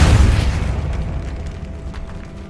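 Depulso spell cast in Hogwarts Legacy, a loud deep booming blast that hits at once, then rumbles and fades away over a couple of seconds.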